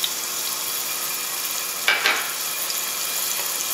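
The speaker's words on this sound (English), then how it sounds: "Here it sizzles." Steady, crackling sizzle of ginger and garlic paste frying in a hot pan, with a brief louder hiss and stirring burst midway, close up and without speech.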